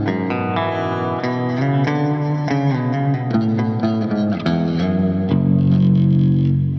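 Electric guitar played through a Line 6 HX Stomp with delay or reverb engaged, a run of picked distorted notes and chords ringing with echoing tails, ending on a sustained, swelling chord; no talking.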